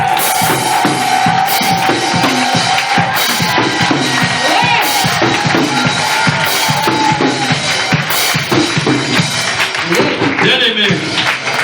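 A congregation at a prayer service cheers and claps loudly and without a break, with a dense wash of voices and clapping that stays at full strength for the whole stretch.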